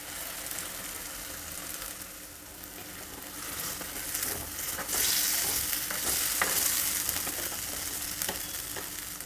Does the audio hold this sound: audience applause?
no